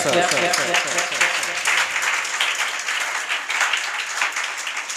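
An audience claps for a teacher during a Teacher's Appreciation Day felicitation at an English academy, a dense, fairly loud patter of hands throughout, with voices mixed in.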